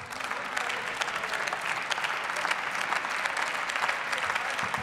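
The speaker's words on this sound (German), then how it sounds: "Applaus" Members of parliament applaud in a sustained burst of clapping that fills the chamber evenly, dense and continuous throughout.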